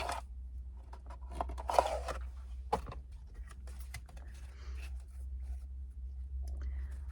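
Tarot cards shuffled on a lap, a run of soft papery riffles and flicks over a steady low hum, with a few sharper slaps standing out.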